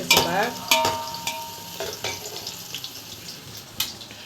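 Onions for chicken biryani sizzle in a pan while being stirred, with close scraping strokes at irregular intervals over a steady frying hiss, and no talking.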